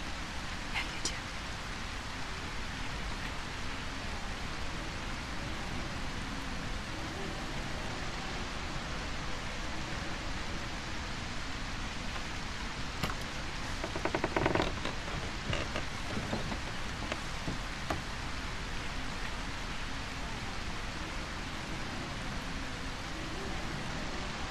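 Steady, dense rain hisses throughout a scene in the video game A Quiet Place: The Road Ahead, a constant wash with a slight swell midway and faint scattered clicks.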